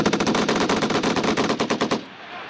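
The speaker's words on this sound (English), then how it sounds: "6 to 8 round burst" A Marine Corps machine gun at Twentynine Palms hammers out a sustained rapid burst of about twenty close, loud evenly spaced rounds lasting two seconds, then stops, leaving a fading echo.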